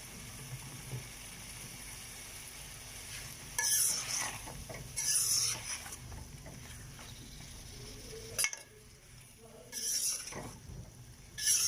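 Potato pieces added to frying white eggplant in a pan, stirred in several bursts of scraping and clatter over a low background sizzle, close by with pauses between the stirs.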